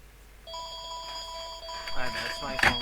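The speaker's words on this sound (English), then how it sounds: "And that's my phone." A phone rings with a steady electronic tone, moderately loud, then a person starts talking over it.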